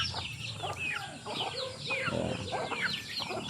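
Backyard native chickens in a coop after a typhoon, clucking and chattering continuously at close range, overlapping soft calls in an outdoor setting with faint background noise.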